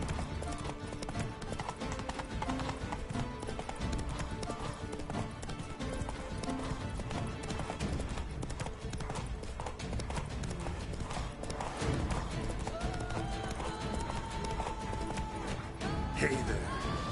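Horse hooves clip-clop steadily and rapidly in The Witcher 3 on PS5, a continuous galloping rhythm under game ambience and occasional speech.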